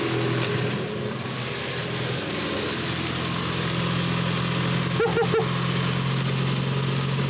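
A Mazda MX5 or Seat Leon engine idles steadily on its own after a jump start, with the booster switched off. It gives a continuous low rumble with a slight wobble and a few brief clicks near the end.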